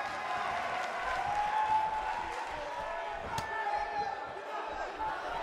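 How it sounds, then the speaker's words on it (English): A passionate arena crowd roars steadily through a WWE wrestling match in Perth, a dense, unbroken wall of cheering with no clear breaks. "Talk about a passionate crowd."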